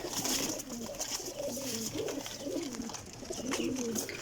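About twenty pigeons packed in one box coo continuously, overlapping throaty coos close by with faint rustling beneath.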